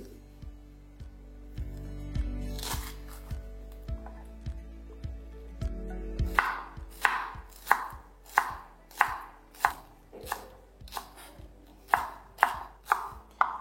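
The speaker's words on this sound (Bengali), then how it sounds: "আর পেঁয়াজ পাতার এই যে পেছনের অংশটাকে সেটাকে আমাদের প্রথমে ব্যবহার করতে হবে, তাই এটাকে আমি এইভাবে কেটে নিচ্ছি।" Knife chopping spring onion stalks on a board while making garlic prawn noodles; a steady series of sharp, close chops, slower at first and then a brisk regular rhythm of distinct knocks, with no talk.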